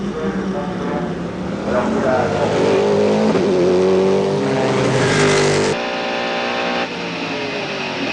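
A 1999 Mercedes CLR race car pulls out of the pits at Le Mans, heard on board as the engine revs up through rising gear notes, then drops with a shift and climbs again, loud and close.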